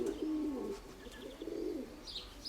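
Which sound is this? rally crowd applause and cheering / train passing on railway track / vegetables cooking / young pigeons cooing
young pigeons cooing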